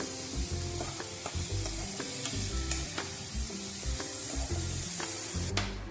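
Garlic mushrooms fry over medium-low heat with a steady close sizzle, while a utensil stirs through the pan in repeated scraping knocks across the whole stretch.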